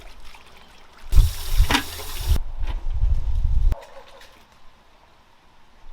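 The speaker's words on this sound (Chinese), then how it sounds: "先把金老师的这些素菜给它洗一下" Running tap water splashes loudly over vegetables being washed in a home kitchen, in two bursts of a few seconds each, then stops, leaving quiet room noise.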